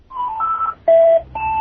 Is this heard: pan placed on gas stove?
no